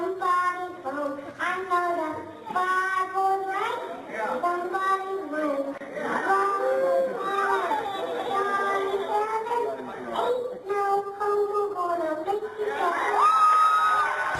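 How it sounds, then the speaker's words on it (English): A child sings a tune on a played-back recording while a crowd cheers, whoops and chatters loudly behind the voice, the cheering swelling throughout. "Oh, and they all start cheering."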